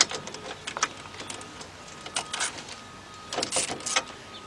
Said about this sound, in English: You're going to use an 11mm or 7/16 deep socket. And you want to take off three nuts.